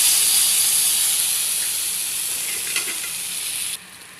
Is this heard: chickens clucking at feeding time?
no